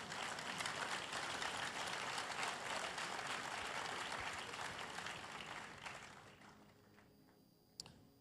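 Congregation clapping at a church sermon, a dense sustained burst of applause that fades out toward the end, with a sharp single knock near the close.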